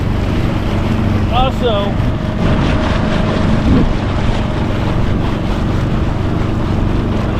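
A small outboard motor drones steadily on a tiny plastic Bass Raider 10e boat, a continuous low engine hum over water and wind noise, with a person talking briefly and a few faint bird chirps.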